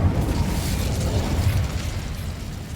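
A fire spell cast in Hogwarts Legacy gives a dense, continuous whooshing roar with low rumbling bursts, loud and steady throughout with no talking.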